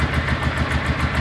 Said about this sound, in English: This is idling like it's a new bike.